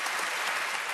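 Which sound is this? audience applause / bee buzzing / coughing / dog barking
audience applause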